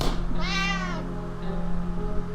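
A single drawn-out cat meow in the video game 60 Seconds rises and falls, followed by a softer second mew, over a low steady hum.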